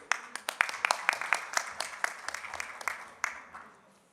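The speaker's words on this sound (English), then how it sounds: "A round of applause for Madhu sir, so please." Audience at an investment summit session applauds a dignitary, a short burst of scattered, distinct claps from a modest crowd that thins out over about four seconds.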